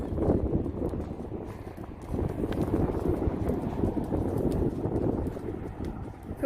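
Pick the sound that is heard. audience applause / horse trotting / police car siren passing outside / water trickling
horse trotting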